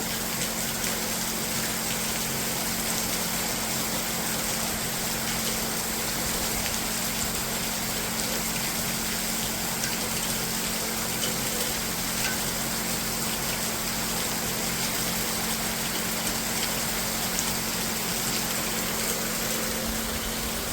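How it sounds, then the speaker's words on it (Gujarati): Heavy rain pours down in darkness, a dense, steady hiss of falling water that continues without a break, with a low constant hum beneath it. "કેવો અંધાર કેવો વરસાદ છે તો જુઓ"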